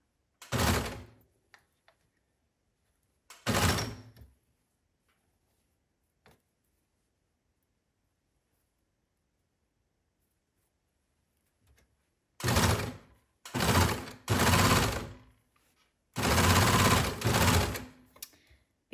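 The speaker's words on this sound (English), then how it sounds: "as we sew and cut off around this curve" Sewing machine stitching a side seam pocket around a curve, with short loud bursts of rapid mechanical stitching separated by pauses, two early runs and several longer clustered runs near the end, close up with no talking.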